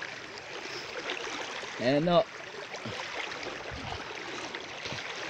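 River water flowing steadily during a crossing, a continuous broadband rush, with a short voiced exclamation near the middle and faint talk over the water.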